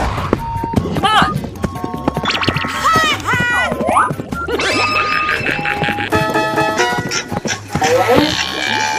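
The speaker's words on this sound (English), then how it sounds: "Buffalo." Buffalo moo from a 3D animal slide video game, blended with busy game music, sound effects and cartoonish tones, with a voice talking over it throughout.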